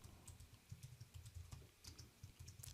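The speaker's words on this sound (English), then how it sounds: "So we'll type nav space a.mobilemenu." Code is typed on a computer keyboard, a quiet, close run of quick irregular key clicks and taps with no voices.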